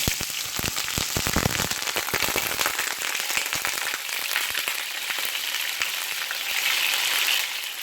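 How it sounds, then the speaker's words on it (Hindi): Garlic and ginger tempering sizzles and crackles in hot desi ghee, a dense close frying hiss with sharp pops that are busiest early, then settle into a steady sizzle. "घी को आपने ऐसे ही गर्म करना अच्छे तरीके से, पता चले कि तड़का लग रहा है"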